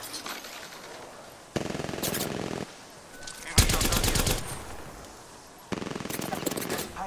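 Bursts of automatic gunfire in the Apex Legends video game crackle in several loud, rapid volleys separated by quieter gaps, heard close and sharp.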